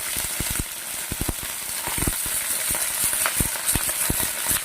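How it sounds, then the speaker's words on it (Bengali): Potatoes tipped into hot oil with moringa drumsticks and panch phoron for a vegetarian dish, giving a steady sizzle and frying hiss broken by sharp clinks and rattles of stirring, close and continuous with no talk. "এবার আলুগুলা দিয়ে দেব।"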